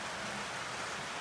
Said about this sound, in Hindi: बारिश ऐसी झम झम हो रही है।